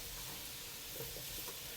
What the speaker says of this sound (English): I've been frying the potatoes for about 5 minutes